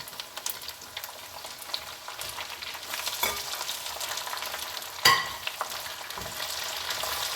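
Drained, still-damp curry leaves crackle and sputter as they drop into hot oil over a low flame, a steady close sizzle broken by a few sharper pops and bursts.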